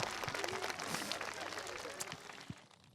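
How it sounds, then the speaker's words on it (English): Scattered applause from an outdoor crowd at a high school groundbreaking ceremony for the governor, faint and fairly distant, with uneven clapping that tapers off over a few seconds. "But we can applause for this one, our governor, Steve Sisolak."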